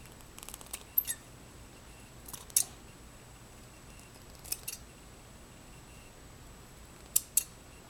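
Scissors trim a paper fir tree shape with crisp, quiet snips in short clusters of one to three cuts spaced a few seconds apart, close and alone.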